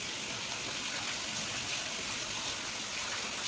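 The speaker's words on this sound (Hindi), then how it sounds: "अब मैंने इस सरफ़ को अच्छे से घोलना शुरू कर दिया ताकि अच्छे से घुल जाए।" Detergent powder being stirred and dissolved by hand in water inside a container, a steady close-up sloshing, rushing wash of water that continues without pause.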